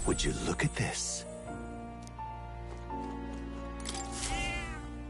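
A cat meows in a video game, giving several drawn-out, tonal meows set against a soft ambient backdrop. A short, bright cry comes near the end. No one speaks.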